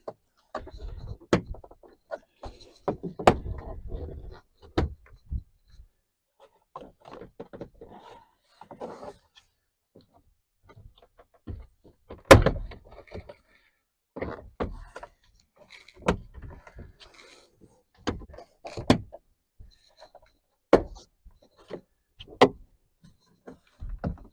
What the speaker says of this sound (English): just hold the door steady and start pulling until you hear stuff snapping.